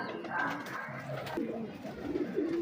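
French big breeder high flyer pigeons, a breed kept for about fifty years, coo softly and steadily in a loft, with low throaty calls repeating throughout under faint background noise.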